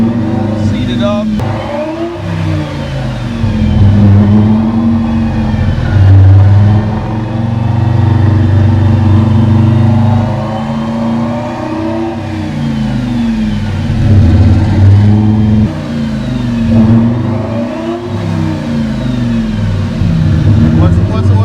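Boosted Lamborghini engine running on a dyno at around 70 mph, a steady loud drone with repeated rises and falls in revs over the full stretch, while people talk over it.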